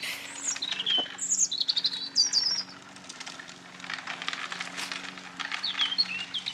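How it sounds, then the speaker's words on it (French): Birds chirp and tweet outdoors, with several bright calls close by and others scattered farther off during a quiet walk, steady faint hum underneath. "On entend les oiseaux."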